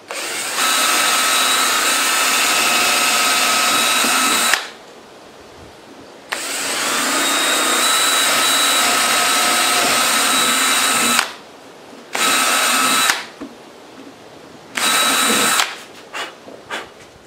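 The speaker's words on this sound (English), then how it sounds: "Now I'm going to drill a hole through each of these at the 1 inch mark" A power drill whines at high speed in several long and short bursts drilling holes through wood, loud and close, with quieter pauses between runs.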